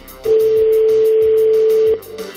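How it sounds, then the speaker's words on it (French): A telephone line rings once on the caller's end, a single steady electronic tone lasting under two seconds, loud and close, with faint background noise and no talk over it. "Ça sonne."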